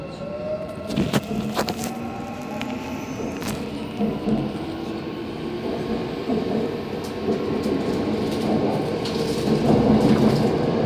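A subway train departs, rumbling and rattling along the rails with a steady, building roar, wheels clacking and a rising whine as it gathers speed.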